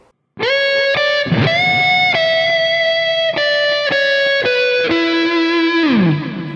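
Distorted electric guitar plays a lead line of sustained notes with a bend that slides pitch upward, then a final note bending down, bright and loud.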